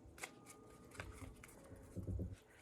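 Tarot cards being handled and pulled from a deck, with faint papery flicks and a soft riffling shuffle near the close, quiet and close with no talk.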